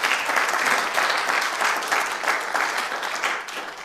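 Audience applause for the Deputy High Commissioner at a Ugandan independence celebration in Sheffield, UK: a steady, full round of clapping from a crowded hall that tapers off slightly toward the end.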